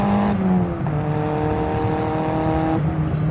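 A turbocharged 1300cc Toyota Starlet Glanza V revs hard, its engine note climbing and pulling through the gears up close and loud, with turbo whistle audible over the rising drone and no one talking.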